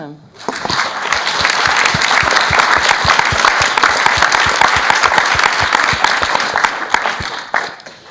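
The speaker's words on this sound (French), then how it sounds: "Je crois qu'on peut les applaudir." An audience at a panel debate breaks into strong, continuous applause that holds steady for several seconds and then tapers off near the end.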